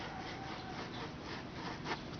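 Belt sander running steadily with a cheap rubber sleeper pressed against the moving sanding belt to clean it, giving a continuous close rasping rub over the motor hum, with a brief louder scrape near the end.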